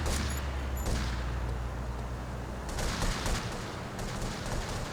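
Gunfire bursts crackle through a GTA Vice City mission, with a few scattered shots early and denser volleys later, moderately loud with no voices.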